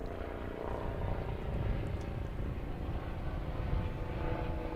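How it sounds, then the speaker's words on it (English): A Stat Medevac helicopter approaches to land at an airfield, a continuous, loud low-frequency rumble and rotor throb holding steady with slight swells, with no talk over it. "it sounds like we have a helicopter coming in"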